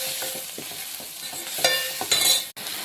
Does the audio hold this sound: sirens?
no